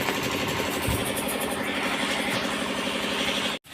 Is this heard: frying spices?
no